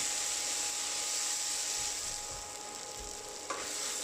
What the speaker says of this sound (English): Mix it and add it to the pan.